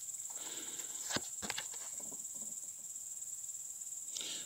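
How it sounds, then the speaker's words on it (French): Crickets chirp in a steady, faint, high-pitched drone throughout, with a couple of soft clicks or taps near the start. "je vais laisser le chant des grillons"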